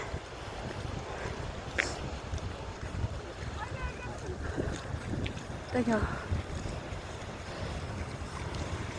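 Strong, cold wind roars steadily across the microphone in the rain at Giant's Causeway, with people talking under the gusty rush throughout.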